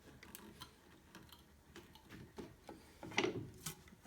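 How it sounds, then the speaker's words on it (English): Side braces on a two-piece tennis racquet stringing machine are being loosened, giving quiet ratcheting mechanical clicks and ticks in an irregular rhythm, close and faint. "Loosen the side braces."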